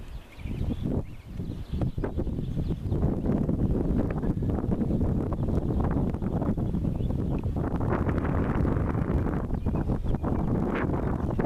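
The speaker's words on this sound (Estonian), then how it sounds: "Ja tuul on ka üpris tugev praegu." Strong wind blows outdoors in western Estonia under morning cumulus clouds, buffeting the microphone in a continuous loud roar with gusty rumbles throughout.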